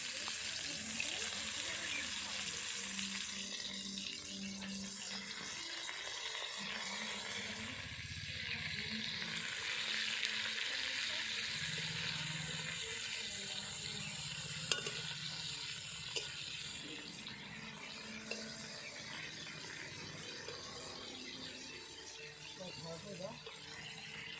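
Steady sizzling from cabbage and chicken frying in a pan, with occasional stirring clinks, running continuously at moderate level without talk.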